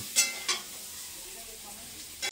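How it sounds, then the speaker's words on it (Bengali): Fried potatoes and pumpkin sizzle softly in a pan as a utensil stirs and lifts them, with a few sharp scraping clicks at the start and end over the low frying hiss. "আলু আর কুমড়োগুলো আমি এখন তুলে নেব"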